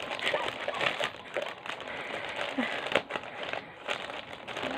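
Wrapping crinkles as a chocolate package is opened, a continuous close rustling with scattered crackles and a few sharper snaps, filling the whole stretch without talk.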